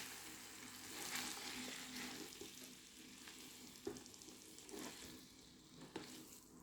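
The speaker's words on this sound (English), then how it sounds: "Let's fry the bit in the butter." Cauliflower rice sizzles steadily in melted butter in a pan, with a few sharper scrapes and clicks as it is stirred, close and moderately quiet with no talking.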